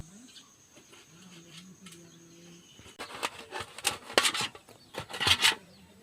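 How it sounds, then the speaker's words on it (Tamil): A knife cuts snake gourd into rounds, with a quiet stretch and then a run of crisp chopping and scraping sounds that grows louder and denser toward the end. "பொடலங்காய் 65 செய்ய பொடலங்காயை ரவுண்டாக கட் பண்ணி எடுத்துடலாம்."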